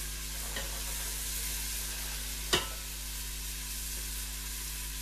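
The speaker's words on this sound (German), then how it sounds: "dann kommt in das heiße Fett die vorbereitete Sellerie" Celery frying with onions in hot fat, a soft, even sizzle against a steady background hum, with one short sharp knock about halfway through, close and without speech.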